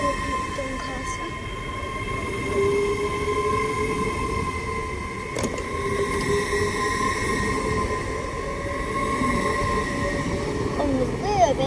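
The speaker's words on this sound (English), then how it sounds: "Departing now is 801101 with her service to Leeds." A Class 801 train pulls out of Peterborough station, a steady broad rumble of wheels and traction with faint high tones, heard close and continuous, with a brief clank midway and a voice speaking over it.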